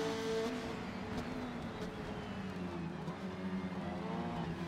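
An Audi Quattro race car in Forza Motorsport gives a steady, droning engine note that shifts gently in pitch as it keeps running, with no voices over it.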